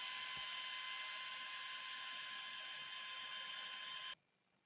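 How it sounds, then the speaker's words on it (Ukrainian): A cooling fan on a battery charging setup for a LiFePO4 CALB 12V 200Ah cell whirs with a steady, loud, high-pitched hiss and whine, then cuts off abruptly near the end, leaving quiet. "Кулер спочатку він так голосно шумить, але потім, коли вже струм менший заряду, він працює дуже тихо."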